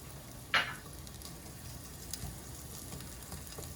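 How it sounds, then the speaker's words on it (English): Sliced shallots sizzle softly in a hot pan, with a brief sharp scrape or knock of a wooden spoon near the start, then a quiet, even frying hiss. "Add shallots to hot pan. Stir occasionally until shallot is softened."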